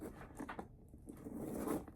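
A durable zipper on a Coach bag, either a Large Rowan or a Compass 35, is pulled open in a quiet room, giving a soft, close, continuous rasping slide.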